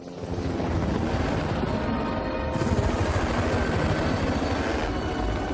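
A helicopter is heard in a military setting as a continuous, loud, dense mechanical roar with a steady chopping wash that persists throughout.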